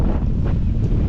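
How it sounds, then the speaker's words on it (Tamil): Strong seaside wind buffets the microphone beside the Vasco da Gama pillar on the Kenyan coast, a loud, continuous roar of gusts with no voices. "செம்மையாக காற்றடிக்குது"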